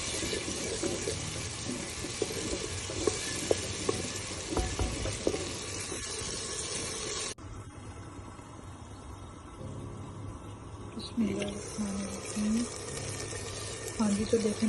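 Tomato and onion masala sautéing in a pan with a splash of water, a steady close sizzle with stirring scrapes; after a brief drop it turns quieter and bubbling as the water cooks off, with someone talking throughout.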